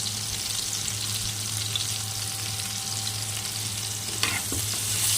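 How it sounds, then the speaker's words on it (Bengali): Potato pieces fry in oil with turmeric while being turned, a steady close sizzle over a low hum, with a sharper scrape and clatter near the end and no speech. "ভালো করে এভাবে নেড়ে ছেড়ে লাল করে আলুগুলোকে ভেজে নিতে হবে"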